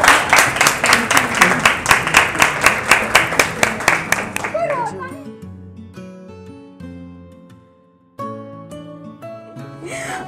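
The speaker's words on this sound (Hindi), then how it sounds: "ताली मारो जोरदार, राउंड।" Rhythmic clapping from a salon audience applauding the winner of a bridal makeup class, a loud, even burst of claps lasting about four seconds before music takes over.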